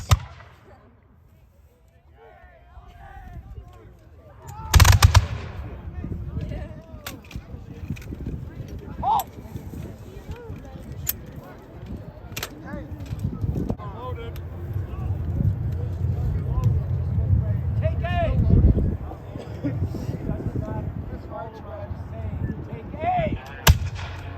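Musket volleys and cannon shots at a historical reenactment of an American attack on Canada, sharp loud blasts scattered through the scene with shouted commands and crowd noise around them.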